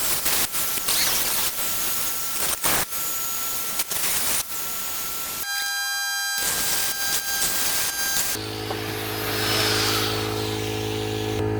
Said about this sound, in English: With the other hand I'm going to have to cut it with my cutting wheel.